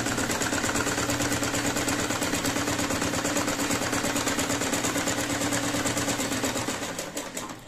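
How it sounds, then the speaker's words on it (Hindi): A sewing machine stitches fabric for a multipurpose organizer, running in a steady, fast, continuous mechanical rattle close to the microphone, with no talking, then easing off slightly at the very end. "सबसे पहले हमें यहां से यहां तक इस पे सिलाई लगानी है।"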